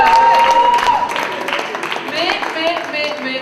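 Applause from a slam poetry competition audience, a dense patter of clapping heard under voices and other sound that run through the whole stretch.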